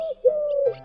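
A single dove coos once, a clear, low, smooth call held for most of a second, close and alone against a quiet background.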